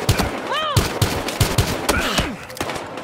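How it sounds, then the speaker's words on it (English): Gunfire in the video game Battlefield Hardline, with rapid bursts of loud, close shots in uneven rhythm, mixed with game effects and voices talking. "Shots fired. 13 reporting shots fired."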